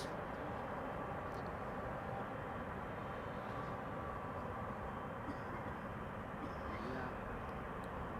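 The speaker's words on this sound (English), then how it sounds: "Lufty, in the meantime, just now has taken off from the center runway" A Lufthansa airliner departing from the center runway at Amsterdam Schiphol Airport, a steady, distant broadband jet roar filling the whole stretch at low level, with a commentator talking over it.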